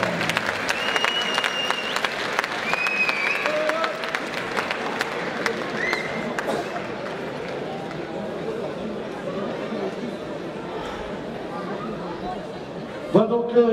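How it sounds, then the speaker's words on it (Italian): A crowd at a women's boxing match applauds after the final round. Sharp, close claps come first, then spread into broader, steady applause with background chatter that tapers off, and a louder burst arrives at the end. "J'aimerais qu'on applaudisse très fort donc Patricia Ghibelli pour l'Italie et Léo"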